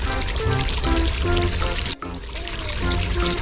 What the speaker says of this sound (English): Peppa turned on the hose, spraying water that washed away the mud